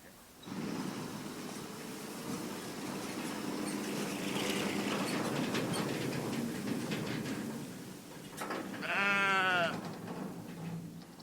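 Sheep on a farm being caught and loaded into a trailer, with a loud, wavering bleat near the end over steady background rumble and scuffling, and voices talking through much of it.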